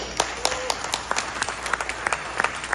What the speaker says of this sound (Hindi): इसके लिए आप लोगों के लिए एक जोरदार ताली हो जाए।